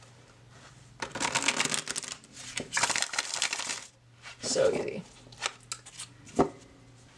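Tarot cards riffle and rustle in several quick bursts close to the listener, with a brief spoken remark partway through.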